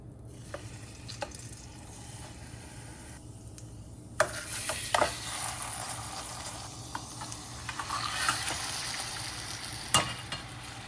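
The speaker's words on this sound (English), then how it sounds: "I am heating up my pan with my unsalted butter, and I'm going to put my salmon inside of the pan" Salmon fries in unsalted butter in a pan with a soft, continuous sizzle, and sharper clinks and stirring bumps break in now and then.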